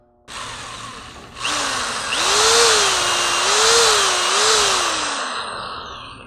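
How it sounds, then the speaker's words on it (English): A power drill whirs continuously at close range while drilling a slot to fit angel eye halo lights on a Fiat 500, its motor pitch rising and dipping as it bites in, loud and steady for several seconds. "We're going to use a drill now since that's a little bit more available."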